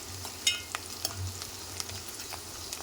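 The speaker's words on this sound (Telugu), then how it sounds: "ఆనియను మిర్చి కొంచెం వేగాలండి." Sliced onions and green chillies fry in a hot pan, giving a steady close sizzle broken by sharp clicks and scrapes as they are stirred.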